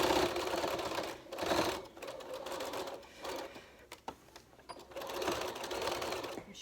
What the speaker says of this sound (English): and then just sew down the casing.